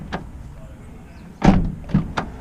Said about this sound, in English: close and open driver's door twice